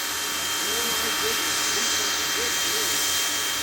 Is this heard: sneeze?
no